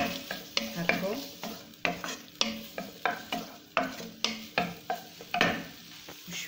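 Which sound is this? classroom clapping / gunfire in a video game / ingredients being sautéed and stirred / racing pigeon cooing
ingredients being sautéed and stirred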